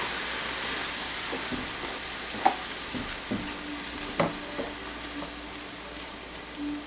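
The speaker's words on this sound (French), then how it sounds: "Donc on mélange, on fait un petit peu épaissir" Sauce of chicken bouillon and water thickening in a pan as it is stirred, a steady low simmering hiss with faint scrapes and light spoon clicks, no voices.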